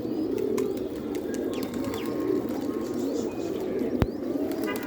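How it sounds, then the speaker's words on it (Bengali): A flock of domestic pigeons moves about their loft, giving soft overlapping cooing, scattered chirps and scuffling, with one sharp close knock near the end and no speech. "সব কবুতরগুলা এদিক ওদিক ছুটাছুটি করছে।"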